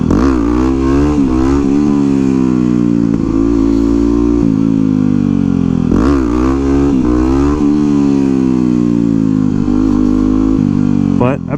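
A 2009 Yamaha WR250X supermoto engine in a video game revs loudly, its pitch rising and falling in repeated climbs and drops, with a voice talking over it.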